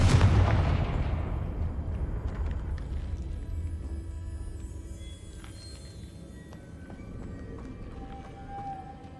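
A Confringo spell explosion in the video game Hogwarts Legacy, a deep booming blast at the start that rumbles and slowly fades over several seconds, with faint game sounds afterward.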